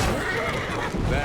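A horse in Assassin's Creed Syndicate lets out a loud, close whinny that fills the short moment, with a faint hint of hooves beneath.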